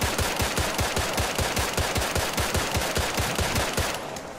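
Sustained automatic gunfire in the military video game Arma 3, a loud, rapid, evenly spaced burst of shots running for about four seconds before cutting off abruptly.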